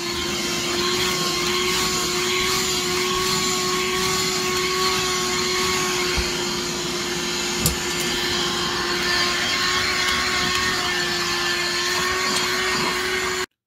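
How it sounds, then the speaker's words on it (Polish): A vacuum cleaner runs steadily while a room is cleaned, giving a loud, continuous motor whine with a constant pitch. It sounds close and fills the whole stretch alone, with no talk over it. "Odkurzanie."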